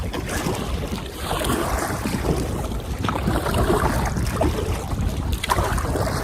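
Solo canoe paddled with a kayak paddle on Caddy Lake in strong wind, steady water wash and paddle splashes under loud wind buffeting the microphone, close and continuous.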